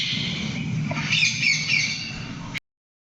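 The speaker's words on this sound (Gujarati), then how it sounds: "અહીંયા પોપટ છે તેનો અવાજ સાંભળવો હોય તો અહીંયા પ્રેસ કરો." A recorded parrot call plays from a push-button display at the Khijadiya bird sanctuary, giving harsh squawks and chirps over a hiss before cutting off abruptly to silence.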